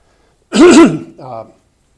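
One close, voiced throat clearing from someone recovering from a cold, in two parts, a wavering rasp followed by a softer low hum, then quiet.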